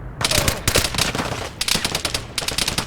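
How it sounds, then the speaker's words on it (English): Rapid automatic gunfire from several players in the survival shooter game Vigor, with loud overlapping bursts of shots that come in waves and pause only briefly. "I'm getting shot by 3 people right now"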